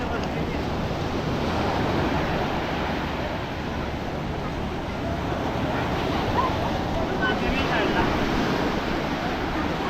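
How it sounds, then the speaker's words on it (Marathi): Sea waves surge and break on the beach at Alibag, a steady broadband wash with wind buffeting the microphone throughout, no clear individual crashes standing out. "आता बघू ही लाट येतंय का."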